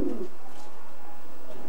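Racing pigeons coo softly inside a stock loft, a low, brief murmuring call heard near and fairly quiet against the room's ambience.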